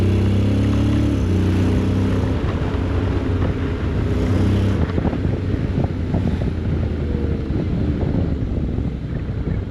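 A Honda X-ADV 750 motorcycle rides through city streets, its steady engine hum running low and continuous beneath heavy rushing wind buffeting the microphone.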